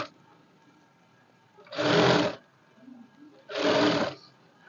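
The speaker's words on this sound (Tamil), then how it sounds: "இதில் ஒரு 1/4 இன்ச்சுக்கு தையல் போட்டு விடணும்" A sewing machine stitching a quarter-inch seam on a blouse piece, with two steady whirring runs of about a second each separated by a pause, close and fairly loud, no talking.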